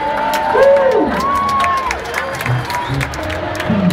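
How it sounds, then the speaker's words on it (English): Gospel concert crowd at Central Park SummerStage clapping, cheering and whooping, loud and lively throughout, with a singing voice and shouts rising over the crowd noise. "clap your hands, everybody"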